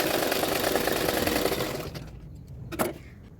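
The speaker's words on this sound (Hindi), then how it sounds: "जो अस्तर का फैब्रिक है उसमें और एक सिलाई डाल रही हूँ" A sewing machine runs continuously while stitching the lining fabric of a boat neck double katori blouse, a dense close whir that stops abruptly partway, followed by a couple of faint clicks.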